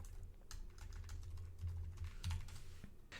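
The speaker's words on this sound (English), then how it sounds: "So we can type in my password." Fingers type a password on a computer keyboard, a close, quick patter of key clicks running steadily for a few seconds with no talking.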